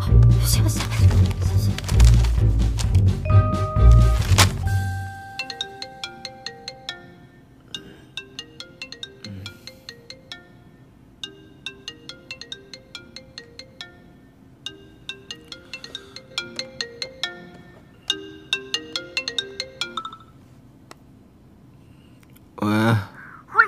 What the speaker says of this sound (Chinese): 赶紧给夏白城他们打电话，快点快点快点。